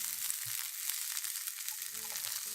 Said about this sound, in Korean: 양파를 넣고 볶아줄게요